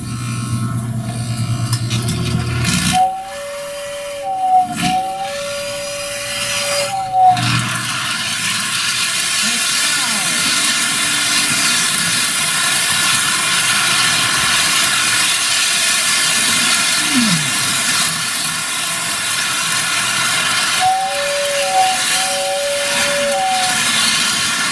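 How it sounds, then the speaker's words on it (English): A small model train runs through a Christmas village display, giving a steady soft mechanical hiss and whir with occasional whistle-like tones near the start and end. "I'm gonna turn the train on for you for a minute."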